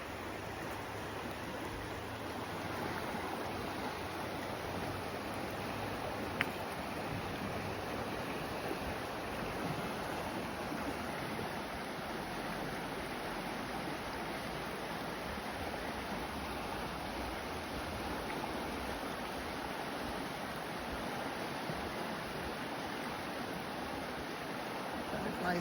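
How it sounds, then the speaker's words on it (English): A river in Glacier National Park rushes steadily nearby, a dense continuous broadband roar of flowing water with no breaks, heard alone for an extended stretch. "Walking down here to the river."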